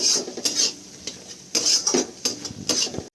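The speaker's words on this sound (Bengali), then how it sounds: "তারপর সব কিছু ভালো করে মিক্স করে নেব" Broccoli masala is stirred in a pan with chili powder, a spoon clinking and scraping against the metal in quick, uneven bursts over a faint sizzle, close by.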